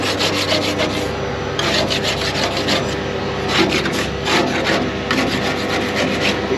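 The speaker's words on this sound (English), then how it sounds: "what I'm doing is scraping the edge of it, the top of it" Steady rough scraping on the filter seat edge at a concrete plant, a tool rasping back and forth in repeated close strokes with a grinding, gritty texture and no talking.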